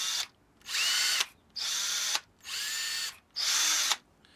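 A Ryobi 18V ONE+ R18PD3 cordless drill whirs in four short bursts, each spinning up, holding a steady smooth whine for about a second, then stopping, close and alone.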